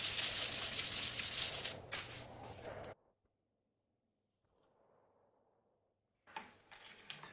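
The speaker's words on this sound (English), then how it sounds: "The final step on the top plate is sanding the edges. I start with 180 grit, then finish with 800 grit." The edges of a top plate are sanded with 180 grit and then 800 grit paper. Close, loud back-and-forth rubbing runs steadily for about three seconds, stops for a long quiet gap, then starts again briefly at the end.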